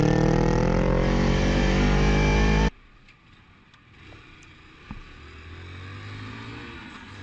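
A motorcycle engine roars loud and close with a steady, revving drone for almost three seconds, then cuts abruptly to a much quieter stretch of distant road and traffic noise with a faint engine hum.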